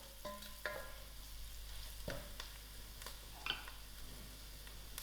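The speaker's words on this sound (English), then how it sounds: "I'm going to throw in my masalas." Masala spices sizzle and fry in a pan over lowered heat, with a steady soft hiss and a few stirring clinks and scrapes, no talking.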